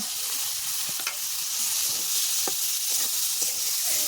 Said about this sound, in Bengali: এবারে দিয়ে দেব সেদ্ধ করে রাখা বাঁশকুড়ুল আর কাঁঠালের বিচি, দিয়ে ভালো করে মিশিয়ে নেব।